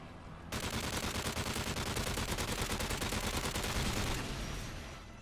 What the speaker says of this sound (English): I'm just going to take them down with the LMG that I've got